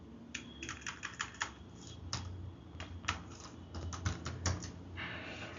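Typing on a computer keyboard to enter a company name into an online public search form, a quiet, close run of irregular key clicks with a few brief pauses.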